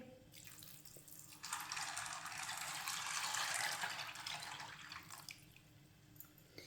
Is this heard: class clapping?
no